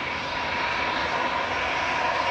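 A Boeing 787-8 arriving at Manchester Airport on a gusty day gives a steady, loud jet engine roar with a sustained tonal whine, continuous and close throughout with no talk.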